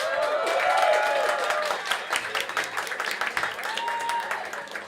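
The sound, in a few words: audience applause for the speaker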